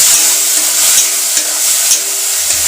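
Onions frying in a pan and being stirred, a steady broadband sizzle with occasional scraping of the spoon, close and continuous, no talking.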